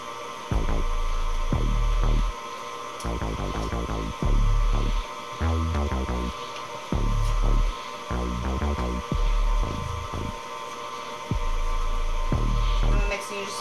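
An electric mixer churns chocolate chip cookie dough with a steady motor hum that throbs and pulses in uneven bursts as the beaters work, loud and close, stopping and restarting several times.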